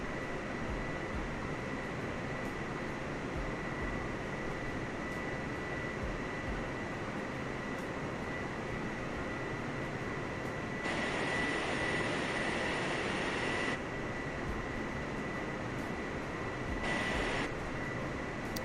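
A Boeing 747-400 in Microsoft Flight Simulator 2020 taxis along a narrow taxiway with a steady, droning jet engine hum and whine, alone with no talk, and brief brighter hissing swells partway through.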